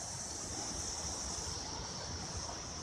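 The Modi River rushes along a trekking trail near Birethanti, a steady broad roar of flowing water heard close and continuous with no talking.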